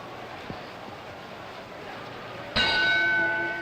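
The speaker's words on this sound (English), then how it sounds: "And there's the bell, round 10." A boxing round bell at a 1950s Joey Maxim vs Sugar Ray Robinson fight rings once, loud and sustained, ringing out above a hollow arena crowd rumble.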